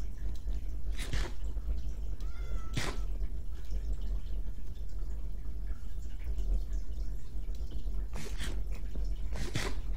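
A cat meows a few times in the video game Minecraft, short scattered calls over a constant noisy game background, with no talk.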